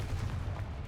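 A Confringo spell blast in the video game Hogwarts Legacy lands as a short, loud, booming burst with a dense, rumbling body, like close artillery fire, and no talking over it.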